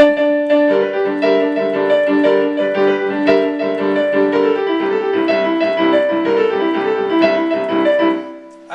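Solo piano playing a busy, rolling junker-blues pattern, with repeated chords and bass notes, steady and close, ending abruptly.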